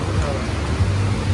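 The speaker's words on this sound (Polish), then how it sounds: "Jest mega ulewa," A heavy downpour during a thunderstorm near the Belarus border gives a dense, steady roar of rain with low rumbling underneath, loud and continuous throughout.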